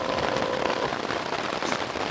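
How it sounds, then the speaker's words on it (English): Steady rain patters densely on a tent, a close, constant hiss of drops with no pauses. "Rain is slowing down."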